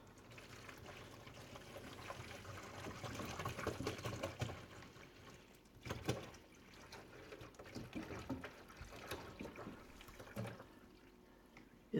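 Water from a gallon jug pours and trickles steadily into a small pond inside a snake enclosure, a continuous faint splashing stream with soft gurgles and a few handling knocks, with no talking.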